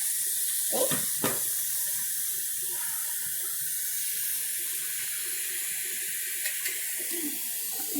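Water runs steadily into a portable compact mini twin tub washing machine, a continuous close hiss of filling with a couple of brief knocks and splashes.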